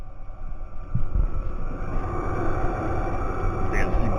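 A cheap diesel heater installed with its fuel tank in the door runs as a steady low hum with a faint mechanical drone. Its level stays even throughout and no one speaks over it.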